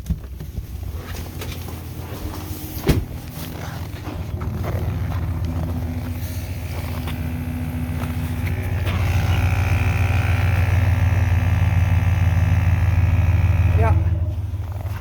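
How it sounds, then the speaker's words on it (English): A Dodge air suspension compressor starts up and hums steadily in extreme cold around -34°C, a low droning whir that builds and holds loud, with a person talking over it. "I can hear the compressor."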